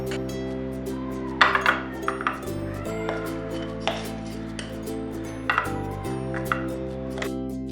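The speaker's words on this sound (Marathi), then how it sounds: "मी आता एका भांड्यामध्ये याला काढून घेतो" A spoon scoops ground stuffing paste for squid curry into a metal vessel, with soft metallic clinks and scrapes at irregular moments over a steady electrical hum.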